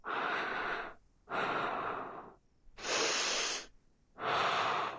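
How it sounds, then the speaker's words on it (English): A woman's heavy, quivering breaths, four long ragged inhales and exhales in a slow steady rhythm, close and fairly loud with short pauses between them and no talking. "She's just breathing."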